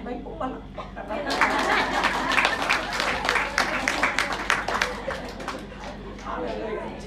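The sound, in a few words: congregation clapping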